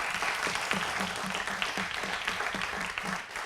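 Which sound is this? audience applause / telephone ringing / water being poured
audience applause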